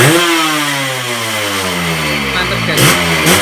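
A Yamaha RX King two-stroke motorcycle with a tuned membrane and ported block, its engine revving up fast from low to high pitch, loud and close, then dropping with brief crackles near the end.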